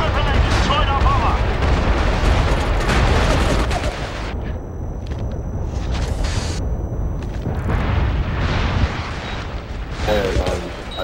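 Precision strike explosions hitting a mortar battery in the MAG video game during a Domination match, a dense run of heavy booms and rumbling blasts mixed with gunfire, loud and chaotic, with radio chatter and voices over it.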